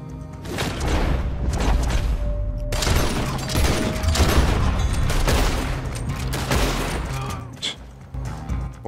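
Gunfire in the Western video game Red Dead Redemption 2, with a shotgun fired up close by someone coming up stairs: dense, loud rolling fusillade of blasts filling several seconds, with a brief thinning near the end.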